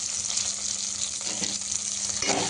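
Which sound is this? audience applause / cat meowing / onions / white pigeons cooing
onions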